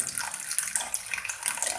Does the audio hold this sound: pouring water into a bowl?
yes